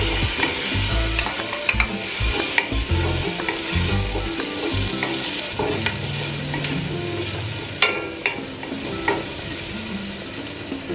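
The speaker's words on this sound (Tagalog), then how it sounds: "Hayaan lang natin na mag-brown ang dilis." Anchovies (dilis) frying in a pan while cooking laing: a loud, steady sizzle runs throughout, broken by frequent scraping and clattering strokes of a stirring utensil, close by and with no voices.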